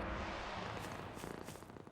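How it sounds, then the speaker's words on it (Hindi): A cat purrs steadily and close up, a soft low rumble that turns into faint, rapid pulsing near the end, alone and fairly quiet. "बहुत शरारती बिल्ली हो।"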